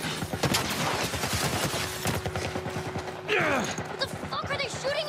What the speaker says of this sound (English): What the fuck are they shooting at us with? Some kind of military turret.